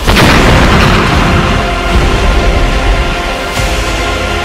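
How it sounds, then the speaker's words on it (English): A loud, deep explosion booms in a fan-made Marvel Avengers trailer set in Hell's Kitchen, erupting at once and rumbling on as a sustained heavy roar that fades only slightly. "Explosion stunned Hell's Kitchen earlier."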